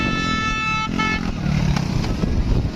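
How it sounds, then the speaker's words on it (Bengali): On Patenga sea beach in Chattogram, a vehicle passes noisily with a rough, buzzing engine that swells as it nears, amid breezy beach ambience. A high horn-like tone sounds briefly at first. "এই যে গাড়ি আরেকটা আসতেছে, শব্দ করে ভো ভো করে আসতেছে আরেকটা গাড়ি"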